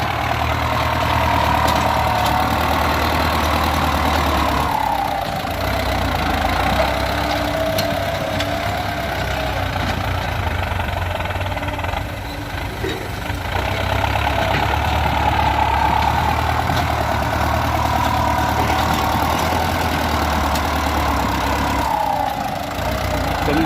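A ten-year-old Ford New Holland tractor engine idling steadily, a loud continuous low rumble with a rhythmic knocking pulse, briefly dipping in level around the middle before resuming, with no speech over it.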